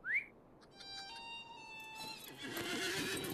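A horse whinnies sharply at the start in the video game Middle-earth, followed by bright synthetic game-style tones and a rising swell of ambient noise.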